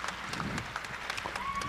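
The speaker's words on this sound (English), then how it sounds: "how about a round of applause for all of our senior Valiene dancers?" A crowd at a Tahitian fete dance competition claps for senior dancers, with brisk individual hand claps standing out over a continuous bed of applause and crowd noise.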